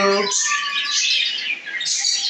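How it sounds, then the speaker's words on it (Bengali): A pet bird chirps in quick bright tweets through a short stretch, close by and fairly clear, with faint human voice traces underneath. "খুবই সুন্দর একটা পাখি ওর নাম হলো মিঠু"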